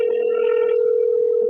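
A phone call rings out on speed dial, a steady, loud tone holding for the whole short stretch with faint overtones that fade partway through.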